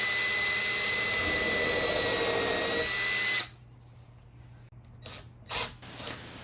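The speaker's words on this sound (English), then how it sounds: "I'm drilling 2 pilot holes using a slightly smaller drill bit through the larger clearance hole" A power drill bores two pilot holes through a larger clearance hole into a wooden baseboard while building a table saw miter sled, a loud whine that stops abruptly, followed by short bursts of quieter handling noise.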